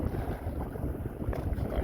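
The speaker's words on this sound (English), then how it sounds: "Nice little gust." A gust of wind buffets the microphone while canoe sailing, a steady low rumbling rush lasting the whole moment with no voices.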